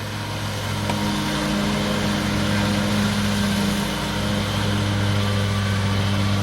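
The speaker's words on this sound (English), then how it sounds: "There's a fella mowing the yard over here, so I've got a little bit of noise" A lawn mower runs steadily in a nearby yard outdoors in Middle Tennessee, a constant low engine drone with a faint whine that never lets up, moderately loud and heard alone.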